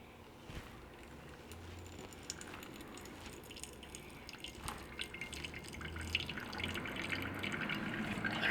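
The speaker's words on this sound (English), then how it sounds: "I'm going to start off, of course, with about 85 grams to pre-wet the coffee." Water poured steadily from a kettle to pre-wet ground Burundi Masha coffee for brewing, a soft continuous trickle with faint dripping, close and quiet, no talking.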